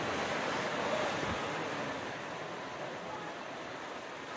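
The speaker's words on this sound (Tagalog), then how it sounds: "Nababasa ang lakas ng ulan." Heavy rain falls as a soft, even hiss with a dull low rumble, steady and moderately faint throughout, with no voices.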